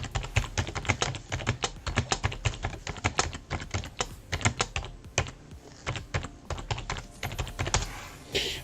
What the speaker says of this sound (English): I'm just going to type that out.